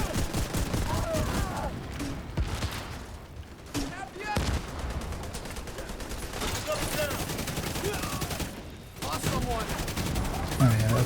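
Nonstop gunfire and explosions in a multiplayer shooter match, including a thrown grenade, with loud overlapping shots and blasts filling the whole stretch while a voice talks intermittently underneath.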